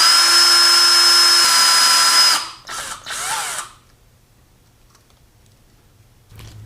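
A power drill bores into an airplane engine housing through a drill guide, whining at a steady high pitch for about two seconds, then two short bursts follow before the drill falls quiet.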